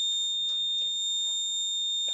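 An emergency alarm rings on a phone in a women's-safety alert setup, a steady high electronic tone held for about two seconds with faint clicks and noise underneath.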